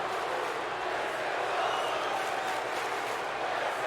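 Crowd at a live wrestling show cheering and applauding after a tornado DDT to the outside, a dense, steady roar of voices and clapping filling the space throughout without letting up.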